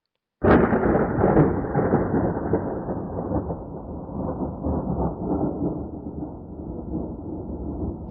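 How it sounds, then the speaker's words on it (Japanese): Heavy thunder in a storm, a loud crack breaking from silence and then a long, deep rumble that rolls on for several seconds with no talk. "雷が鳴りました。"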